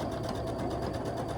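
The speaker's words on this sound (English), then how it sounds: "And then I'm going to sew them together and just remove the clips as I go." A sewing machine stitches quilt pieces together, giving a close, steady, rapid mechanical whir across the whole short stretch.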